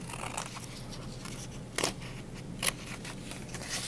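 Scissors snip paper in a few quick, crisp cuts, spaced apart over a faint, steady background hiss, while spots are cut out of a Frank Lloyd Wright design.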